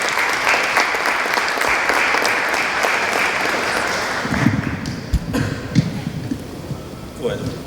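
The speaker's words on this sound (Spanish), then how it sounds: "Un fuerte aplauso para Martiniano Terragni." Audience applause after a speaker is introduced at an academic panel on youth in conflict with criminal law, dense clapping that fills the hall for about four seconds before thinning out and fading.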